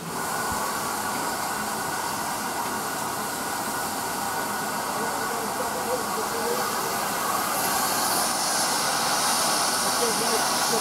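GWR 5239 Goliath, a steam locomotive at Alton, hisses loudly and continuously up close, a broad steady steam roar that grows slightly brighter toward the end, with voices faintly underneath.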